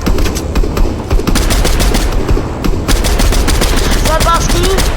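Rapid gunfire in a Minecraft Bedwars match: dense, loud bursts of shots rattle almost continuously, with a brief lull partway through.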